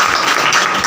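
Crowd applause at a school essay competition prize ceremony in India, honoring a third-place winner receiving a medal; dense, steady clapping fills the whole brief moment with no voices.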